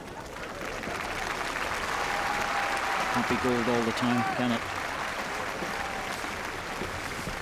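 Steady crowd applause after the women's singles lawn bowls final, New Zealand versus England, at the 2014 Commonwealth Games, with a commentator talking over it throughout.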